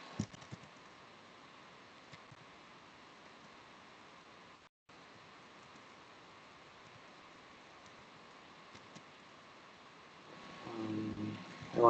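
Computer keyboard typing while writing a test bench in the GVIM editor, a steady quiet patter of soft key clicks that runs nearly twelve seconds, with a brief silent gap midway and a swell of noise near the end.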